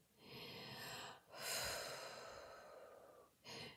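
Slow, deliberate breathing up close: a long drawn breath, then a deeper, fuller inhale and exhale lasting a couple of seconds, with a brief pause before another breath starts, and no talking.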